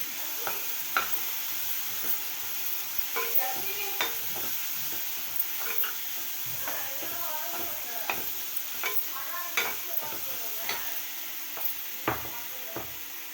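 Garlic sautéing in oil in a pan for a Tamil-style egg curry, a steady close sizzle with repeated stirring scrapes and small clicks of the spoon against the pan throughout.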